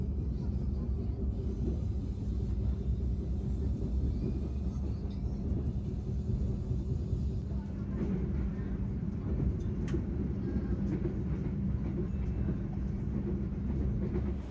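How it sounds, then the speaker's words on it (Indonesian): An Indonesian Gajahwong passenger train rolls steadily along the rails with a deep continuous rumble and faint clatter, heard from inside, no talking. "Sekarang kereta api Gajah Wong memasuki Krupuk ya teman-teman."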